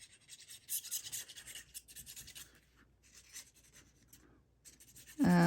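A folded paper belly band for a mini album being burnished, a few soft rubbing and scraping strokes up close, then a sharper sound at the end.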